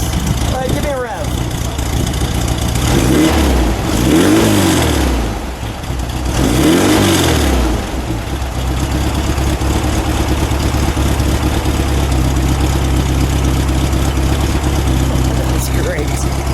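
A 1972 Porsche 914 engine revs up in two strong surges, then settles to a steady idle, heard close and loud under occasional talk.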